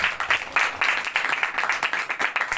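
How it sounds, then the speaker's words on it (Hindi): A church congregation claps loudly and steadily, many hands beating in a dense, continuous round of applause without talk. "तो जोरदार तालियां बजा दो उसके लिए"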